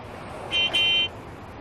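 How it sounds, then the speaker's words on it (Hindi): Two short car horn honks in quick succession, loud and nearby, the second held slightly longer, over a low background hum. "हाय, ये हॉर्न, इसको भी यहीं बजाना है।"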